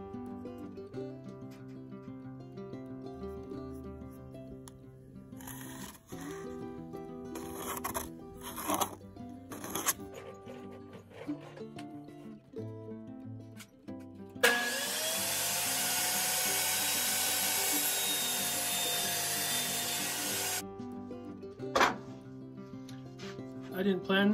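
A power tool cuts 7 3/4 inches off a piece of plywood in a workshop with a loud, steady roaring whine lasting about six seconds, preceded by talking, clatter and handling noises.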